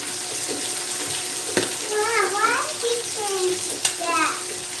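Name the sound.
washing hands under running tap water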